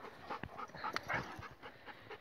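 A Kangal dog pants close by in short, quick rhythmic breaths, quiet and brief with no talking.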